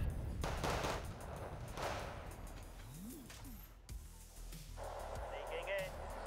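Rocket artillery firing in the Wargame Red Dragon video game, with rapid repeated launch bangs and rumbling bursts, a sharp crash midway, and a voice talking over the barrage.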